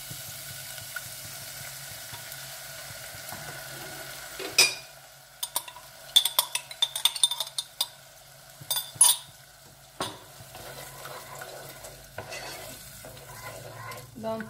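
Chopped garlic and onions sizzle gently in hot oil in a pan while a spoon stirs them in quick scraping strokes, the clatter coming in short bursts over a quiet, steady frying hiss.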